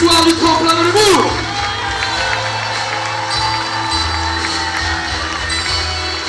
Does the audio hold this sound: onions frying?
no